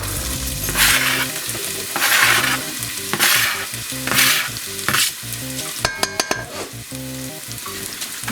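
Chopped onion frying in a pot for chicken stew, a steady loud sizzle with repeated stirring scrapes at a slow rhythm, close up and without talk.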